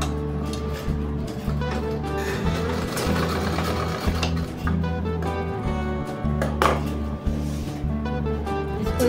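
A sewing machine stitches a ladies' shirt, its motor whirring in a steady, even drone that runs in long bursts with brief pauses and restarts, close and alone.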